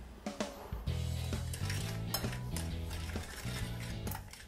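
Sugar and cinnamon get mixed in a bowl with a spoon, giving brisk, close scraping and light clinking strokes in a quick, repeated rhythm.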